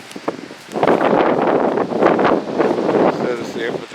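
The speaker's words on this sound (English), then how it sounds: "Boy, it's so windy. That wind is kind of cold." Gusty, cold wind at Fort Bridger, Wyoming, buffets the microphone in broad, roaring surges, loud and close, with a brief lull at the start before the rush builds.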